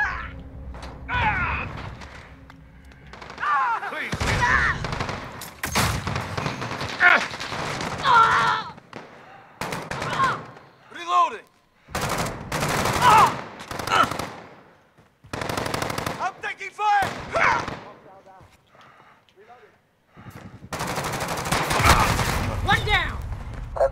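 Automatic gunfire from Call of Duty: Modern Warfare (2019) in a hardcore team deathmatch on the Atlas Superstore map: repeated loud, close bursts of rapid shots with short pauses between, and a voice calling out in between.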